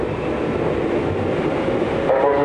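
A Tokyu 8500 series commuter train runs on the Den-en-toshi Line as a local service, a steady loud rolling rumble with faint rhythmic wheel clatter and a brief brighter squeal near the end, heard from inside the car.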